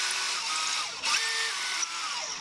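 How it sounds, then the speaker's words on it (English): A small high-pitched drill whines steadily into an old fishing lure, its pitch dipping briefly under load midway, with no talking. "Just have to eyeball this and drill it straight so it comes out at the right spot."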